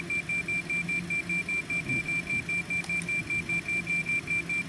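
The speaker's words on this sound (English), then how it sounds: "I think this is an auto marker notification" Marker notification alarm in a Citation X cockpit in the X-Plane 12 flight simulator, a steady train of repeating electronic beeps at an even rhythm, moderately loud with faint cockpit hum underneath.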